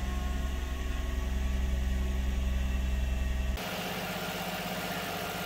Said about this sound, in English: Got a whine. Probably power steering.